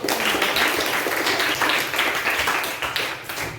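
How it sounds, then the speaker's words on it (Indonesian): Schoolchildren clapping together in a classroom during an Indonesian Christian religion lesson, a brisk, dense patter of many hands lasting a few seconds with little talk. "Tepuk tangan dulu."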